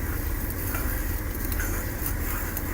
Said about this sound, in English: I can hear that cream sizzle a little